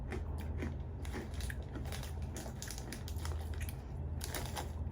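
Crunchy English snacks that smell like onion rings are bitten and chewed close to the microphone, a run of crisp cracking crunches over a low background hum, with no talking.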